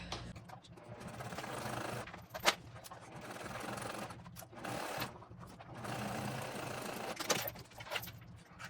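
A sewing machine stitches a backpack seam down toward a pocket stripe, running in bursts of rapid mechanical whirring separated by short pauses, with occasional clicks and fabric handling.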